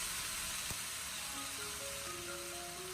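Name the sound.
stir-frying ginger shreds with tomatoes in a wok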